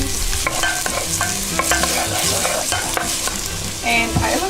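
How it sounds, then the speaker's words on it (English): Vegetables sauté in oil for vegan chili, producing a loud continuous sizzle with frequent stirring scrapes and clatter in the pan and faint tonal sounds in the background. "I'm going to start sauteing the veggies."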